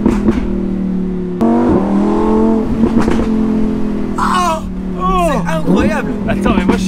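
A Lamborghini Huracan EVO RWD Spyder engine rises and falls in pitch as it downshifts, close and loud, with a person talking over it.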